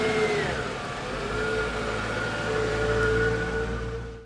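Mercedes SLR McLaren, fire-damaged, driving along with a steady engine hum and a short rise in revs near the start, continuous and close throughout.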